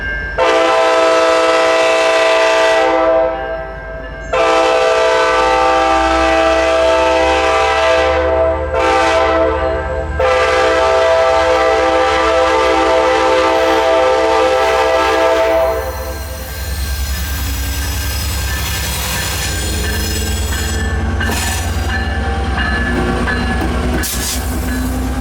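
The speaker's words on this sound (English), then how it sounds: "Train 72 now had the Raleigh Union Station in its sights" An NC Piedmont passenger train passing trackside near Raleigh, its horn sounding several long loud blasts with brief gaps, then the rumbling roll of wheels and cars continuing close by as the horn fades.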